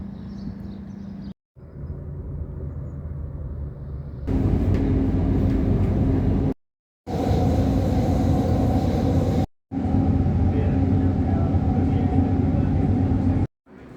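Red-line metro train riding toward Lusail, Qatar: a steady loud rumble of the moving carriage with continuous running noise, broken by a few abrupt cuts, and no speech over it.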